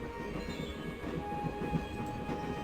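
A train rattles steadily along the tracks with a continuous rumble and faint rhythmic clatter in the video game Broken Sword: The Shadow of the Templars.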